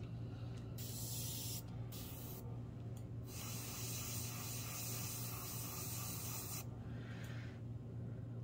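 A continuous hiss of airbrush spraying paint onto nails, steady and close, with brief pauses where the airflow cuts out and resumes.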